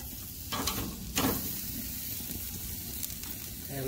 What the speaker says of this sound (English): Now let's listen to this sizzle.